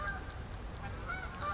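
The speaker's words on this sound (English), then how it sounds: "As the ducks fly over us." Honking calls from waterfowl flying overhead, with several short, nasal cries, some drawn out, repeating at a moderate distance over a low background rumble.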